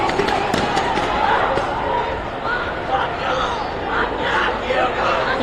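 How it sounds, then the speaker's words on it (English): Protest crowd dispersing in downtown Indianapolis at night, a broad wash of distant shouting and chatter with a few sharp bangs and a constant street roar, talk mixed in. "the crowd on the other side of the camera appearing to disperse"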